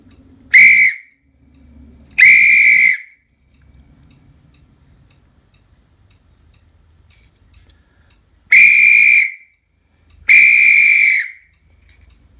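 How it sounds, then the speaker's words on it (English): Replica ACME Mates whistle made for RMS Titanic, blown in four loud, piercing blasts of about a second each, two close together, a pause, then two more, alone over near-silence. "So I'm going to let you listen to what the whistle would have sounded like on that night in 1912."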